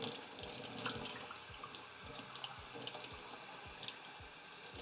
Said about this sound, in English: I'm gonna put a little bit more water into here